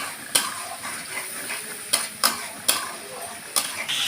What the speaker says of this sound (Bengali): হলুদ গুঁড়ো, বেশ করে মশলাটা কষিয়ে নেব।